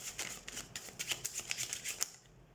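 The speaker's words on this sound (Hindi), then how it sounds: "so let's shuffle the cards" Tarot cards being shuffled by hand make soft, rapid riffling flicks for about two seconds, fairly faint and close, with no talking.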